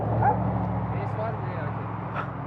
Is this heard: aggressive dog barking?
yes